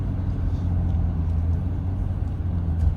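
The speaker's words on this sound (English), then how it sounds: "Just lightly press the brake. Nicely downshifts, not too aggressively." A 2023 Ford F-350 with the 6.7L High Output engine downshifting gently while braking on a downhill, heard as a steady low engine rumble from inside the cab with no talking.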